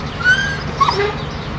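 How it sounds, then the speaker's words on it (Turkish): A stray dog stranded on a flooded pavement after falling into a lake whimpers and yips in short, thin cries at moderate distance over a steady low background hum. "göle düşerek çıkamayıp kaldırımda su arasında mahsur kalmış halde havlayan köpeği fark ettiler"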